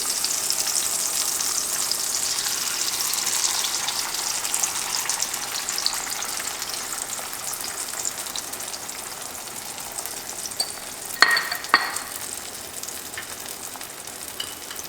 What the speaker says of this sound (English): I'm now going to add my egg mixture.